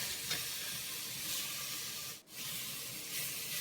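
Pork sizzles in a pan with a steady, soft hiss and faint stirring, quiet and continuous, with one brief dip partway through.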